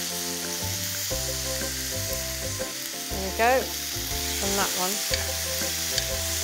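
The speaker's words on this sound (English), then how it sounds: "That's what you want to hear, the sizzle." Marinated steak sizzling in a hot pan without added oil, a loud steady frying hiss throughout with occasional crackles, while a person briefly speaks over it.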